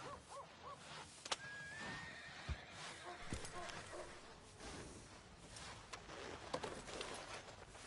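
A horse whinnies during horseback riding, a faint high call amid quiet outdoor ambience with soft hoof and tack noises; the overall level is very low and distant.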